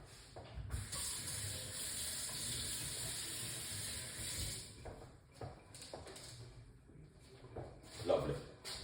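Tap water running steadily into a sink while ingredients are washed, a soft continuous hissing splash that fades after a few seconds into quieter intermittent trickles and clatter.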